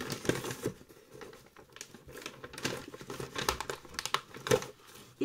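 Crinkling and tearing of paper and thin cardboard as a small wrapped box is opened, with close, irregular rustles and rips and a few quiet bursts of speech in between.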